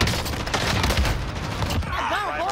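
Rapid automatic gunfire in a multiplayer shooter game, a dense burst of loud shots lasting about two seconds before cutting off, followed by a whining electronic tone, with players talking over it.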